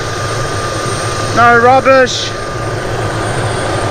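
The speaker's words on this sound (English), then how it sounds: "bloody helicopter was early" Helicopter arriving at a remote mountain hunting camp, a constant loud rotor and engine drone that fills the whole stretch, with someone speaking briefly over it.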